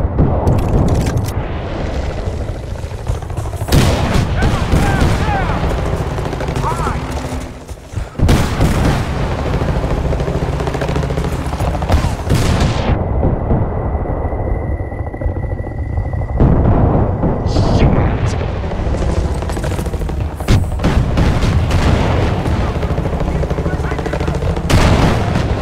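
Heavy gunfire and explosions in the Battlefield: Bad Company 2 Sangre Del Toro level, loud continuous bursts of shots and booms with brief drops and musical tones, sustained throughout with a voice over parts.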